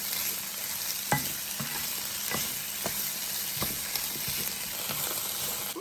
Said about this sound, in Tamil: இது ஒரு 3 நிமிஷத்துக்கு பதக்கிக்கிறேன்.